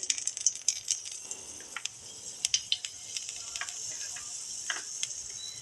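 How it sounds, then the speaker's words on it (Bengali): Nigella seeds tempering in hot oil give a soft, continuous sizzle, with scattered crackles and pops standing out across the sizzle at moderate volume. "যে কালো জিরা ফোড়নটা দিয়ে দিচ্ছি"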